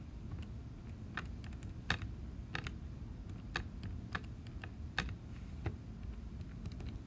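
Buttons on a calculator are pressed one at a time as numbers are entered, giving faint, close, irregular clicks spaced about half a second apart over quiet background noise.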